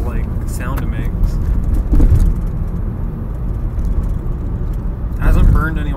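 A Mazda Protege5 engine hums and rumbles inside the car while driving, with an odd low whine underneath and people talking over it.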